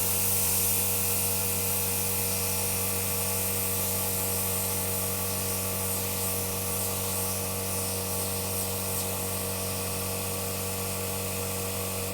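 A steady, continuous hiss of an airbrush spray gun fed by an Iwata Maxx Jet compressor, loud and unbroken for several seconds, with a faint mechanical whine underneath.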